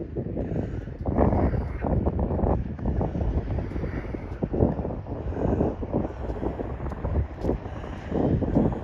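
Wind gusts buffet the microphone outdoors by a river, a continuous low rumbling roar that swells and eases throughout, with no talking.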